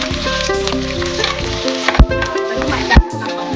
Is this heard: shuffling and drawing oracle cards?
no